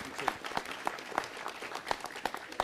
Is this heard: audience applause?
yes